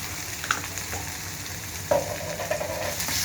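Onion frying in a pan with ginger garlic paste, a continuous soft sizzle with occasional stirring scrapes and taps near the microphone, no voices.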